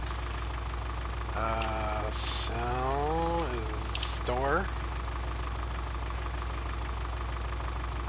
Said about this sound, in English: There's this tractor over here.